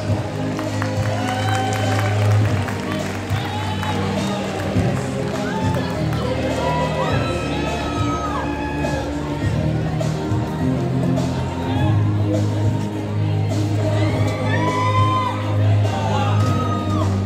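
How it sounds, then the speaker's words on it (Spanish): An audience at a school graduation ceremony breaks into sustained applause with whoops and shouts, a dense, continuous crowd sound with voices calling out through it. "Démosles un muy fuerte aplauso."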